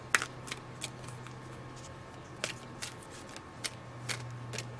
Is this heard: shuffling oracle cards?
yes